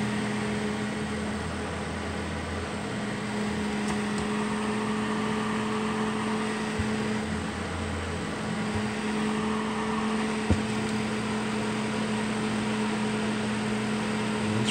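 The motor of a repaired Duracraft Heat Furnace Plus CZ-1200 electric heater runs with a steady low hum and a faint whirring fan, close by and unchanging, with a couple of small clicks and no voices.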